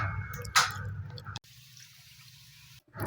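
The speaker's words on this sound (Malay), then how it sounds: "Lepas tu tambah air untuk kuahnya." Water is added to a pot of beef bone curry broth with coconut milk, producing a close splashing pour that cuts off sharply and gives way to a quieter low hum before another burst begins.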